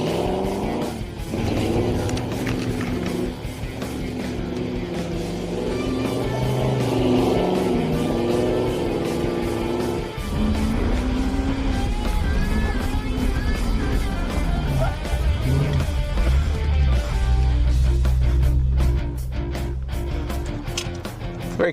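A Hemi-powered '55 Chevy Bel Air and a Ranchero lapping a dirt track, their engines roaring loud and continuous, rising and falling as they pass, with voices talking over parts of it.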